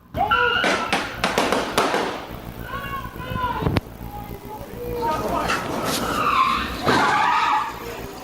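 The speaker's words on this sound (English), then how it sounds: "You can then hear what sounds like a collision in the parking lot." Tires squeal and skid in a parking lot, then a sharp thud of impact, followed by more engine and skidding noise with people talking over it.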